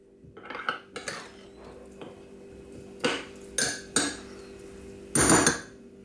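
A spoon scrapes and clinks against a dish while hot water is mixed into semolina, giving a series of separate knocks and scrapes with short pauses between them, close up and with no talking.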